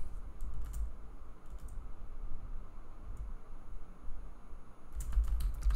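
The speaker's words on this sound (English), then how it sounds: "So I'm typing" Sparse, quiet clicks of keys on a computer keyboard, a few at the start and a quick cluster near the end, over faint room hiss.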